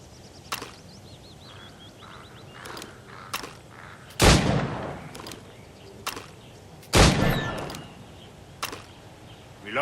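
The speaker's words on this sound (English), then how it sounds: "Shoot these targets. You can take your time, but not too much." Gunshots at targets in the video game Assassin's Creed Rogue, a handful of sharp cracks spaced a few seconds apart, two louder booming shots standing out over a low ambient game background.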